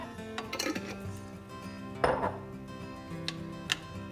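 A spoon spreading leftover jar sauce across a baking pan for keto lasagna made with palmini noodles: faint, sparse scrapes and a couple of louder clinks of metal against the pan, with no talking.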